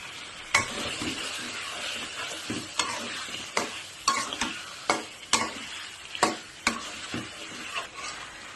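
Pieces of shol fish frying in spice paste in a pan, a continuous sizzle broken by a series of sharp clacks and scrapes as the fish is stirred and turned, roughly one every half second to second.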